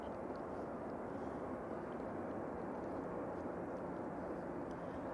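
Aircraft at Manchester Airport, a distant, steady broadband jet engine rumble and roar, faint and unbroken throughout.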